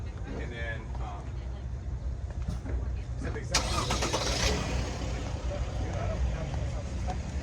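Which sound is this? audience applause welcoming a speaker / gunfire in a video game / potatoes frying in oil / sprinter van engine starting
sprinter van engine starting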